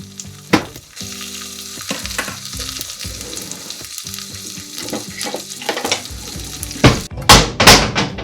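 Naan warms in a hot pan with a loud, close sizzle and crackle. Clattering pan and utensil sounds come in between, and a few sharp bursts of hissing sound at the end.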